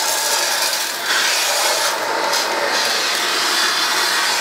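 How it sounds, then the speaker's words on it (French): An A50S vacuum cleaner with a soft brush attachment cleans furniture with a continuous, close hiss of suction. A brushing rub sounds over it and dips slightly at moments. "vous voyez que l'aspiration est quand même assez puissante"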